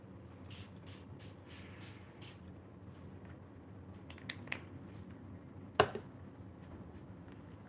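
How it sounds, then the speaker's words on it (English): A handheld mister gives a series of quick spray bursts, about seven short hissing puffs in a row, then a few scattered clicks and one sharper snap in a quiet room. "Now, do your misting if you have your mist."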